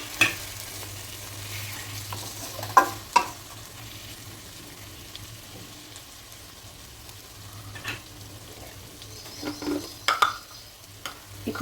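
Tomato pieces frying with capsicum in a pan: a soft, low sizzle runs throughout, broken by a few sharp spatula knocks and scrapes near the start and a cluster of clatters toward the end.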